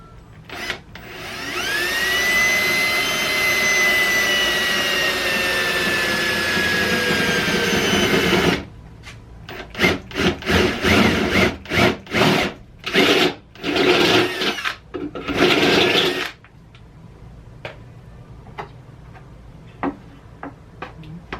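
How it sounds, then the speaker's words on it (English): A power drill bores a hole into a car fender under an Eclipse during a truck bed coating build, whining steadily and loudly for about eight seconds before breaking into a series of short, stuttering bursts, then quiet ticks. "So I'm gonna have to stick this up there and drill my own hole."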